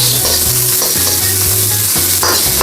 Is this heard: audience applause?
no